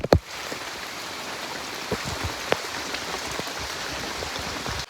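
Steady monsoon rain falls in a broad, even hiss on surfaces nearby, with a few sharper drip impacts standing out along the way and no one speaking.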